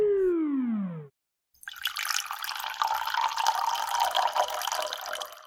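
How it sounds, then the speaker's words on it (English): Water poured into a row of cups for a classroom water-pollution activity: a short falling electronic tone, a brief pause, then about four seconds of steady, close splashing pour. "Pour water in each cup."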